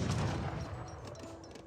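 Musket gunfire in Age of Empires 3 snipes a villager: a muffled crack of shots up front, then fading battle noise, faint and brief with no talking.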